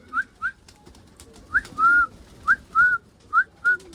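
A person whistles to call pigeons onto their hand, giving short rising two-note whistles in repeated pairs, about three or four groups over a few seconds, clear and fairly close over quiet outdoor background.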